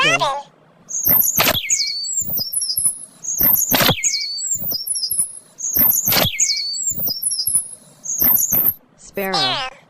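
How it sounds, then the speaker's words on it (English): A robin sings in bursts of high, thin chirps and twitters mixed with sharp clicking notes, repeated in four or five phrases with brief gaps between them, close and clear. "Robin."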